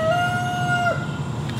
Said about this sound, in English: that rooster. That's getting kind of annoying.